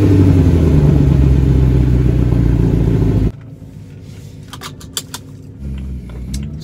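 A BMW E93 M3 convertible's naturally aspirated S65 V8 drones loudly and steadily while driving, then cuts abruptly to quieter cabin and road noise about halfway through, with a few faint knocks.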